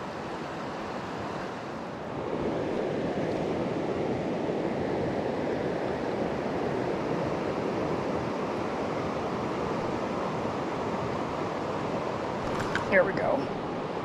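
Steady wind roars and buffets the microphone beside a Maine brook while euro nymphing for brook trout and landlocked salmon, loud and continuous with a few brief higher sounds near the end, and someone talks over it.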